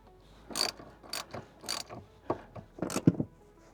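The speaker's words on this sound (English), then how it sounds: "Make sure all four corners, all four bolts are torqued properly." Ratcheting torque wrench tightening seat bolts during a Seat Jackers install on a Toyota 4Runner or Tacoma, heard as about six short, close bursts of rapid clicking with brief pauses between them.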